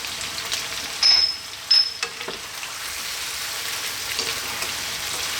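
Garlic ginger paste, a 50-50 mix, frying in a pan for a creamy chicken curry, giving a steady close sizzle with a couple of brief sharp clinks early on.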